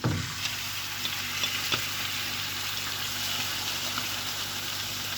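Breaded chicken pieces fry in hot oil in a pan, giving a loud, constant, close crackling sizzle with a few small pops near the start.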